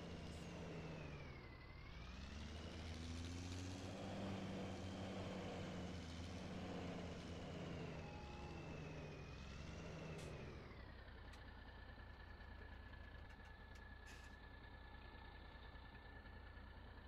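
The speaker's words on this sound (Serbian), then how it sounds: "traktor je bučan, stvarno." A tractor engine in Farming Simulator 17 drones steadily and loudly on its own, its pitch dipping briefly early on and then settling lower and smoother for the rest of the stretch.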